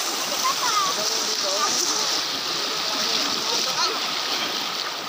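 Strong rushing water at a waterfall stream in Doña Remedios Trinidad, a dense continuous roar and splashing, loud and close throughout, with faint voices in the background.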